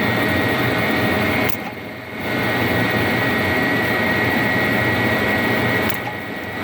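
A Heald 261 rotary grinder running with down feed, a steady loud whine with sustained tonal hum and broadband hiss, briefly dipping twice as the wheel cycles, close and continuous with no talk.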